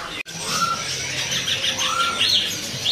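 Canaries, including dark loper canaries, chirping at a bird market, with bright repeated tweets and short whistled calls over a dense, steady chatter of many birds nearby.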